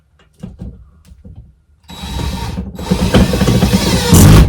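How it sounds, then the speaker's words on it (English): A power driver sinks a screw into a wall stud indoors, a short ratcheting whir after a few light taps, then a long steady grinding drive that grows louder toward the end. "I'm going to drive one of these screws into what I think is a stud"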